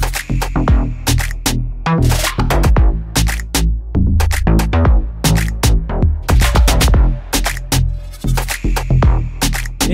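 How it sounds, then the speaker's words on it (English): Punchy Serum synth bass locked with drums in a K-pop girl group beat, loud and dense, with a steady driving kick-led groove and sharp percussive hits throughout, no voices. "So bass and drum sounds like this."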